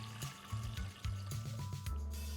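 Water pours into a pressure cooker over soaked, drained chickpeas, a steady trickling splash with low clunks of the pot in the background, fairly quiet throughout.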